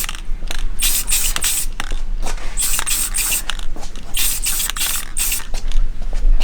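Rattle-can spray paint hisses onto an SSR Type F wheel hub in repeated short bursts, close and loud, with faint rattling and clicks between passes.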